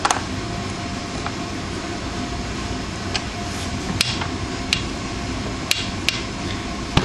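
Sharp metallic taps and clicks ring out intermittently while a chain adjuster is tightened on a 2002 Yamaha YZ125 motorcycle, a handful of close knocks spaced irregularly over a steady hum of background noise.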